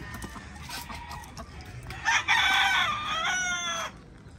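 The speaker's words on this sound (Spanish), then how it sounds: "Es un gallo precioso este, Sam" A rooster crows loudly nearby, a long drawn-out call over a faint background murmur.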